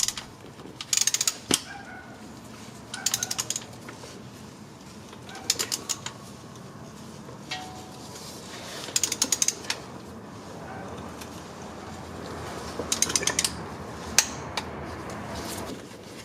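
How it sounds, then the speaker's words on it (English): A torque wrench tightens a plug on a Ford F150 transfer case. Several short bursts of quick ratcheting clicks come in separate groups with pauses between them, close up over quiet shop background, with no talking. "torque wrench is used to get the proper tightness"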